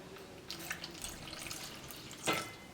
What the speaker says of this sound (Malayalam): ഇതിലേക്ക് കുറച്ച് വെള്ളം ചേർത്തിട്ട് മിക്സ് ചെയ്യുക.